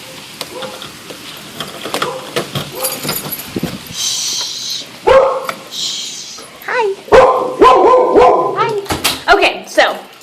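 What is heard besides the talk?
dogs barking excitedly as owner comes inside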